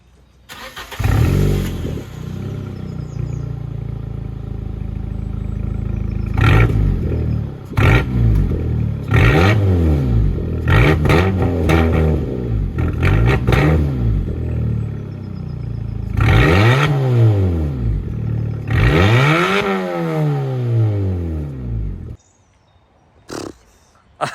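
An Abarth 595C Competizione small engine starts and revs repeatedly through its exhaust, each sharp rise and fall of pitch crackling loud and close before cutting to near silence at the end.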